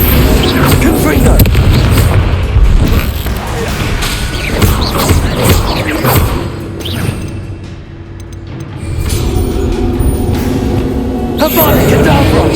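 The Confringo fire spell explodes in the Hogwarts Legacy video game, a loud booming blast within dense battle noise of whooshes and crashes, with a voice shouting over the din.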